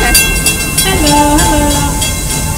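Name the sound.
Busch Gardens Tampa amusement park train ride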